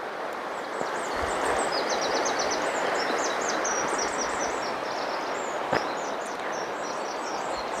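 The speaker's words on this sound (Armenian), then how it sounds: "ոչ ոք չի սիրում ես ձայնը, խշշոցը, թռչունների երգը" Steady rushing water and rustling fill the air beside a river, with bright bird chirps and trills repeating high above the wash while nettles are gathered, and one sharp knock partway through.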